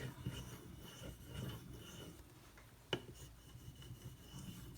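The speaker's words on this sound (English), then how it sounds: "Like the Sharpening Pro 5K. My knife is just skating across it." A Benchmade Mini Griptilian knife with a D2 steel blade glides over a Sharpening Pro 5K whetstone, soft quiet rubbing strokes close by with one sharp click partway through.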